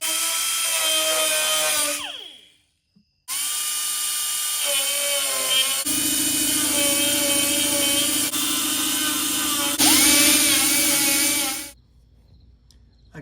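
A high-pitched cutoff wheel whines and grinds through spot welds on a Chevy C10 floor in several long bursts, dropping out briefly twice and then cutting off before the end.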